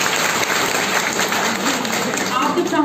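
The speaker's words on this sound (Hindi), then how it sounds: "इनके लिए भी तालियां बजाइए" A lecture-hall audience at a university campus dialogue applauds with steady, dense clapping that fills the room, with voices mixed in underneath.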